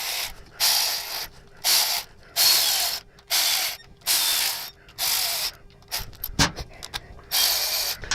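Bolts on Harley Touring motorcycle parts being run in with a ratchet, close and clear, in about eight bursts of rapid clicking separated by short pauses, with a brief clatter near the end.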